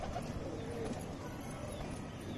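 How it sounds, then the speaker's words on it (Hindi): Pigeons kept for sale in India cooing softly in a coop, low murmuring coos blending with faint background noise, no talking. "ये सब भाई सेल के कबूतर हैं"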